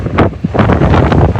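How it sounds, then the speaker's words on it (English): Strong wind at the front of a fast-moving cruise ship roars and buffets loudly and close, with gusty bursts pounding continuously across the short stretch and no voices. "It is so windy at the front of the ship"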